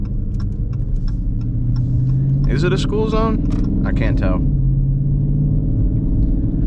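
A 2019 Dodge Charger R/T with a loud exhaust drones steadily and close while driving, a continuous low engine rumble throughout, with a person talking briefly over it midway.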